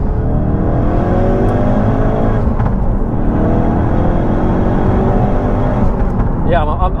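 A Ford Focus RS Mk3 with a Collins Performance CP2 exhaust revs and drones steadily from inside the cabin, with an airy, raspy exhaust tone running throughout and voices talking over it.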